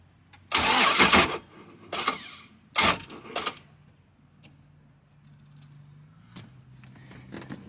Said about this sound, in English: That is the sound of a hydrolocked motor.